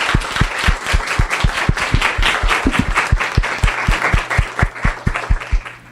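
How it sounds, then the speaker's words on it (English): An audience at a lecture on linguistic contact gives a round of applause: dense, sustained clapping from many hands, loud and close, filling the room throughout. "round of applause."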